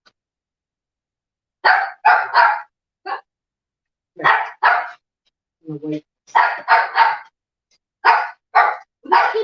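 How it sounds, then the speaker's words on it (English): A dog barks in the middle of home salsa verde canning, with bursts of loud, close barks in quick clusters spread across the stretch. A person speaks briefly between them. "What are you barking at?"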